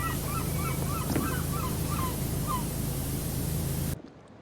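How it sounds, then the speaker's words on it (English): A bird in the PowerWash Simulator video game honks repeatedly like a goose over a steady wash of hiss and low hum, with several short calls in a row before the sound cuts off abruptly. "I tell you, that bird could be quiet."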